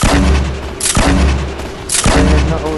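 Loud, booming blasts from Fortnite grenades, three heavy explosions spaced roughly a second apart, each with a sharp crack and a rumbling tail, and no speech over them.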